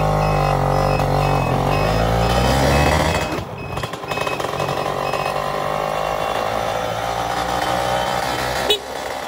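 Yamaha F1ZR 110cc two-stroke motorcycle engine running steadily while riding uphill, a loud continuous buzzing drone that shifts pitch around the middle, with wind rumble and a brief knock near the end.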